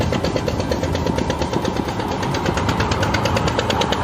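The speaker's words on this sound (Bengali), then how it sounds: "আমরা আজকে 3টে বাইক নিয়ে যাচ্ছি, 4জন লোক।" Several motorcycles on a short group ride in rural Bengal, engines running steadily and close, with a continuous throaty drone and rapid pulsing texture throughout, no voices.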